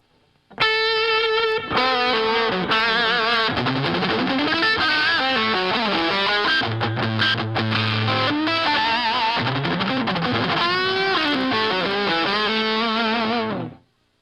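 Heavily distorted electric guitar playing fast palm-muted notes with chugging low riffs and sustained higher notes, loud and continuous throughout.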